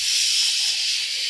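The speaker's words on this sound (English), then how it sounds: "It's frying." Beer-battered French fries fry in hot oil, giving a steady, loud, close sizzling hiss that carries on alone without talk.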